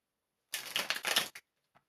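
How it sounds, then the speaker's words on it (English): Tarot cards being shuffled by hand, a dense close riffling burst of just under a second followed by a short tap and a faint final click, with no talking. "We're gonna do one more shuffle"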